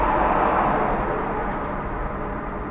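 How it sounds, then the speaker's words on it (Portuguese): A truck loaded with chickens rolls past on the road, giving a steady, fairly loud broadband rumble that fades slightly as it moves away, with no speech. "Tá passando aí um caminhão com frangos."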